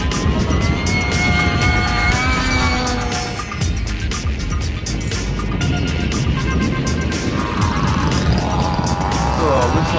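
RC model jet aircraft at a Temora, Australia flying event whine steadily overhead, a continuous turbine roar holding for the whole stretch with faint pitch shifts as one passes, loud and unbroken.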